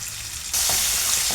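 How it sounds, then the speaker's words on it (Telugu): Onion frying in oil with mustard seeds for a mushroom and egg curry, a dense close sizzle that suddenly grows louder partway through, with a few faint stirring taps and no talk. "ఆనియన్ కొంచెము ఫ్రై అవ్వాలి."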